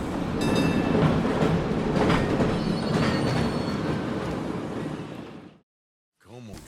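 A train rolling along in the video game Red Dead Redemption 2, a loud continuous rumble with wheel noise and faint squealing that cuts off abruptly near the end.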